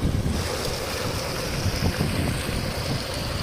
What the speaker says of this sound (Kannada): ನೀರು ಹೋಗ್ತಾ ಇದೆ ನೋಡಿ